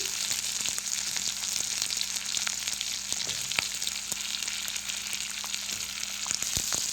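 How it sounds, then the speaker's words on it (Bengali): Spices and potato pieces fry in hot oil for a curry of ilish fish head with ash gourd, a steady close dense sizzle throughout with a few sharp crackles and faint utensil clicks. "উপকরণগুলো আমি ভালো করে মিক্স করে নিচ্ছি, তেলের সাথে ভালো করে কষিয়ে নিচ্ছি"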